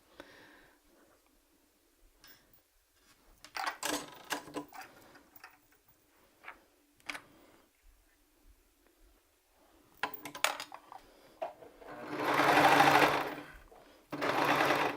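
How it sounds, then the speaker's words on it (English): A serger stitching a fabric gusset seam, with short bursts of rapid machine whirring separated by quiet pauses and small clicks, and a longer steady run near the end. "We're going to sew that with our serger."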